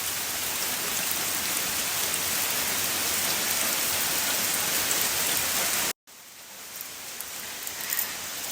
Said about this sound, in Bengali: বাড়িতে আইতে না আইতে বৃষ্টি শুরু হয়ে গেছে গা।